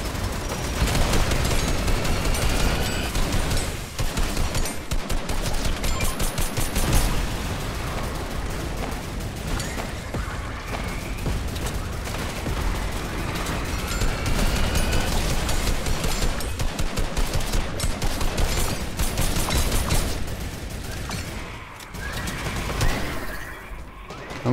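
Sustained turret gunfire in a Fortnite match, a dense, continuous stream of rapid shots running loud and unbroken for the whole stretch with no talk over it.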